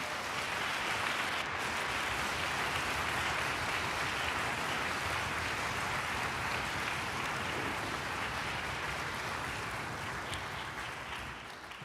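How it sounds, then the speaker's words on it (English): A concert audience at a string school performance of music of the Americas applauds steadily and loudly, a thick, even wash of many hands that barely fades until a slight drop at the very end. "all of you deserve a great round of applause for your efforts this year"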